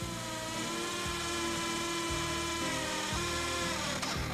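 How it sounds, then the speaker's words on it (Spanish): A power drill with a long bit bores holes for radiator heating pipes, whining steadily up close with periodic dips and surges as the bit bites into the material. "se realizan las perforaciones que permitirán el paso de los tubos hacia el radiador"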